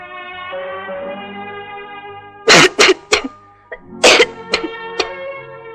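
A man in a Tamil film scene coughs in two harsh fits, a cluster of three barks followed by a pause and a second burst of several more coughs, loud and close over a steady musical score.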